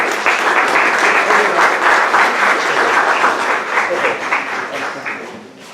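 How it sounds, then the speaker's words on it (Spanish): Loud, dense applause from an audience at a medical general session, sustained steadily for several seconds before tapering slightly at the end, with no talking over it. "Le agradecemos su presencia al doctor José Marcos Félix Castro con un fuerte aplauso por su presencia."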